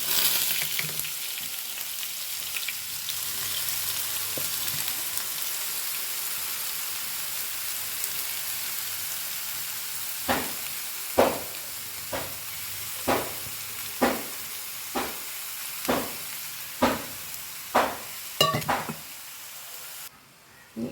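Urad dal frying in hot oil in a pan for a Kerala yam-stem thoran gives a steady close sizzle, with a run of sharp regular clicks or taps of a utensil against the pan in the later part.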